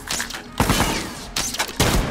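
Gunfire in The Last of Us multiplayer (Factions) on PS5: three loud, close bursts of shots, each a sharp crack followed by a brief rattling tail, heard alone without talk.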